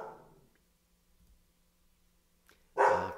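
A dog outdoors among desert ruins barks once, loud and close, near the end after a long quiet stretch, with only faint rustling and a brief soft sound before it.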